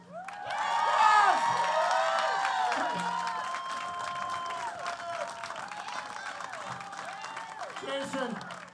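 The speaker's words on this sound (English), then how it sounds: "Now keep those applause going." Sustained crowd clapping with whoops and shouted cheers at the North Hudson Pepper Fest coronation final, dense and steady throughout, the cries rising and falling over the continuous applause.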